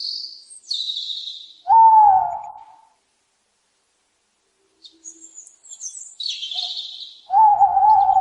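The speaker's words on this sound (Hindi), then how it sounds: "बार्ड आउल आमतौर पर इंसानों से दूर रहना पसंद करता है" An owl calls at close range: drawn-out, whistled notes alternate between high and lower pitches in short phrases, with a clear silent pause midway before the calling resumes.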